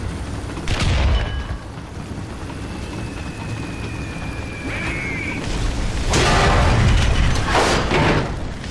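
A tank in War Thunder ground forces fires its cannon, heavy booming blasts near the start and a longer loud rumble later, over constant engine drone.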